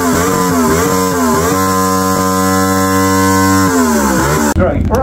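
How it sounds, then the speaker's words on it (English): A custom motorbike engine at an outdoor car show revs up, its loud steady drone rising and falling in pitch over several seconds before cutting off abruptly near the end. "we're going to have a little fantastic rev up from this bike here"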